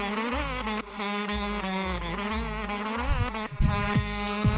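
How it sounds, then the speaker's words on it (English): A whistle-like buzzing synth tone runs through a looped hip-hop beat, sounding like insects flying past, wavering in pitch over a deep sub bass and kick, loud and continuous. "I like that whistle."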